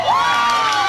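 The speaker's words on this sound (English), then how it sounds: "Crowd got excited for just a second" A softball crowd at a LadyCat game against Little Elm lets out a short burst of cheering and shouting after a hit, loud and close, lasting under a second.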